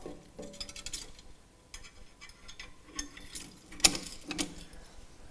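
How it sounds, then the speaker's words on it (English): Locking pins fitted onto a stainless steel band for an electric drum tipper, heard as scattered close metallic clicks, taps and scrapes with one sharp clink partway through. "Just going to fit our locking pins so the band can't come apart."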